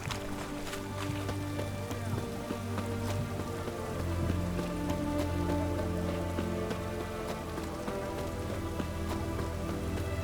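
Steady rain patters down in The Witcher 3, a dense, even hiss of drops on surfaces that continues throughout with no talking over it.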